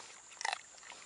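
Pet crunching a carrot, a single quick burst of crisp, close bites lasting well under a second, fairly faint against quiet room tone.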